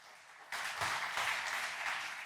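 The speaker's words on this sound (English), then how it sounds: "So that deserves a round of applause," A round of applause from an audience rises suddenly after a quiet moment and continues as a steady, fairly faint patter of clapping.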